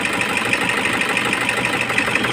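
Toyota HiAce 2KD diesel engine idling steadily with a misfire, a continuous close, even rumble with no talk over it.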